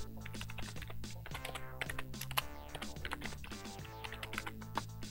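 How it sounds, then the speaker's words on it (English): Quick, irregular clicks of typing on a computer keyboard, close and fairly quiet, with brief pauses between bursts. "And I got my keyboard upside down."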